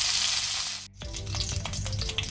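Chopped curry leaves and green chilli hit hot oil for a kanda poha tempering, a loud continuous sizzle that cuts out briefly and then resumes with crackling spatters.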